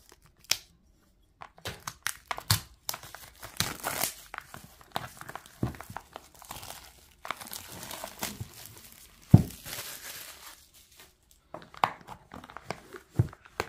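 Cellophane wrapping crinkles and tears as an oracle card deck in a lift-off magnetic box is unwrapped, scattered crisp crackles and rustles at close range over several seconds, broken by quiet gaps.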